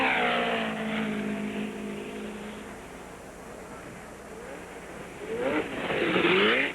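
A 1970 USAC championship race car streaking down the main straight at Ontario Motor Speedway in the California 500, its engine roaring past, fading, then a second surge of engine noise as another car closes in.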